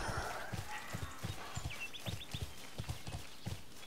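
A horse mount, called an ibex, in the online game Bless Online clops up a slope with regular, evenly spaced hoofbeats, close and clear. Faint chirping bird sounds sit in the background.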